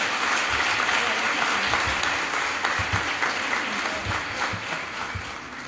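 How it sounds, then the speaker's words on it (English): Steady applause from the crowd at a school prize-giving ceremony in a hall, a dense wash of clapping that holds throughout and slowly tapers toward the end. "I believe Dr. Taylor deserves another round of applause."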